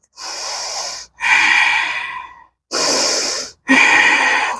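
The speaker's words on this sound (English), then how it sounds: "Keeping that Ujjayi breath throughout our practice to stay in these poses" Slow, loud Ujjayi breaths during a power yoga flow: four long hissing, oceanic inhales and exhales, each lasting one to two seconds, separated by short silent pauses, close and without any speech.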